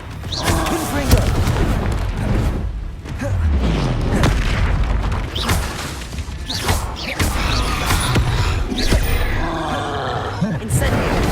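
Confringo fire spells burst in Hogwarts Legacy gameplay as a dense run of loud booming explosions and roaring impacts, one after another for the whole stretch, with a voice shouting spell names over the din.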